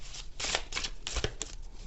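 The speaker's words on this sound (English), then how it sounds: "I'm gonna shuffle this again." Tarot cards riffled and shuffled in quick bursts, a papery flutter repeating several times at close range with no talking.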